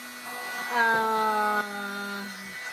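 A small handheld vacuum whirs steadily up close, sucking dried ink off a pen nib, its motor tone rising briefly in pitch midway before settling back to a constant hum.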